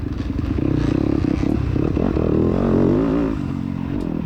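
2-stroke dirt bike ridden through a tight cross-country trail: loud, close engine drone with rising and falling revs, clattering and scraping over rough ground, no talk.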